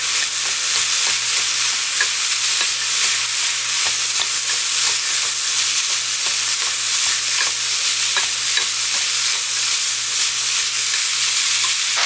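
Vegetables, green onion among them, stir-fried in a pan for japchae, with a steady loud sizzle and the scrape of stirring running continuously throughout, no voices.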